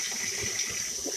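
A kitchen tap runs into a sink to make dish water, a steady close gushing stream without pause or speech.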